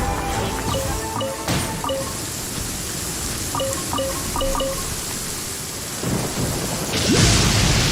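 Thunder rumbling in a Genshin Impact storm scene, a continuous deep roar with rain under chiming game tones, swelling louder near the end.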